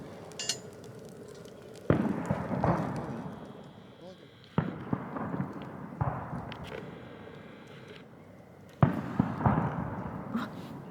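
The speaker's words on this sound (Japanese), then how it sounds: "あ、花火だ。 すごい。" Several fireworks explode over Lake Yamanaka near a lakeside campsite, four separate sharp booms spaced a few seconds apart with rumbling tails, while people talk between the bursts.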